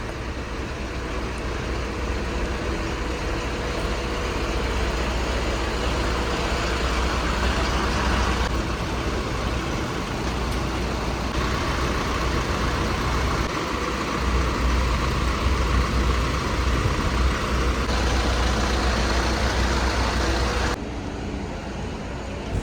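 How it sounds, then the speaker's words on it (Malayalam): A Leyland Cappela 13.5 A/C sleeper bus engine drones steadily in the front cabin, a continuous low rumble with broad road and cabin noise that holds for over twenty seconds without a break. "ലൈലാൻഡ് ബസ്സുകളായതുകൊണ്ട് തന്നെ കുറച്ച് എൻജിൻ സൗണ്ട് കൂടുതലുണ്ടാവും ഫ്രണ്ട് ക്യാബിനിൽ"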